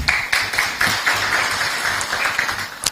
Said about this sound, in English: I think we can also appreciate Chair with a clap.